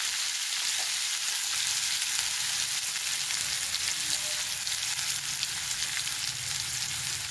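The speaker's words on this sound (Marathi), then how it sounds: "कांदा छान आपल्याला असा लालसर परतून घ्यायचा आहे" Chopped onion fries in hot oil with mustard seeds and cumin for a groundnut curry, making a loud, steady, dense sizzle that holds close up for the whole stretch without talk.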